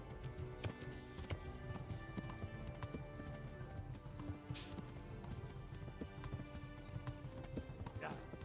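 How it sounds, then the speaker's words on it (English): A farm horse's hooves clip-clop steadily in the medieval game Kingdom Come: Deliverance, a continuous, evenly paced trotting rhythm over ambient game sound, with no talking. "this is not my normal fucking horse"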